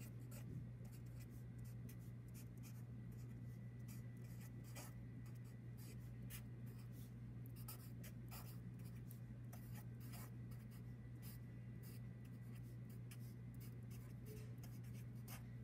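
Pen or marker writing out a chemical equation by hand, a faint continuous scratchy rubbing with small strokes over a steady low background hum, no talking.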